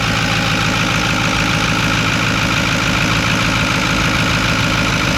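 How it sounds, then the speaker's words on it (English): A Ford 6.4 Powerstroke diesel engine runs close by with a steady, loud, rough idle and a rhythmic knocking clatter, holding constant with no voices. "I think it was the main turbos"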